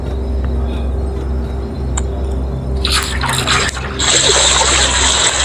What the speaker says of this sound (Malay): Okay, isi air.